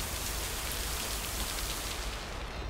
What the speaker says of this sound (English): God, the rain has gotten worse.